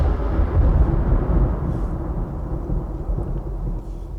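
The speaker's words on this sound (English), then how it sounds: "Was that the sound of a revelation, or is that a storm?" A thunderstorm in the Call of Cthulhu video game: a heavy, close rumble of thunder that rolls for several seconds and slowly fades, with a dense low roar and no voices.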